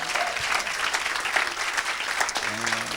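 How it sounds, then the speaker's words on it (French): A church congregation at an evangelistic service in Senegal bursts into loud, continuous applause and cheering, with dense clapping filling the space and voices rising underneath toward the end. "Acclamez pour cette famille libérée."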